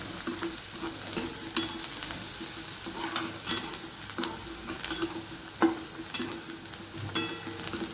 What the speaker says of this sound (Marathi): आपल्याला असं कांदा लाल होईपर्यंत परतून घ्यायचा आहे